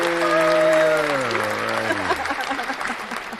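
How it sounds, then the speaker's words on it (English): Applause during a live show, starting under a sustained voice or tone that slides downward and then continuing alone as a scattered, moderately loud patter of claps. "We're going to get some applause."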